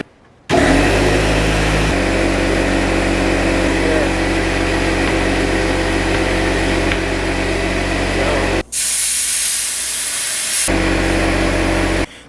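Air being pumped into go-kart tires: a loud, steady machine drone runs throughout, broken near the end by a sharp, bright burst of hissing air before the drone returns.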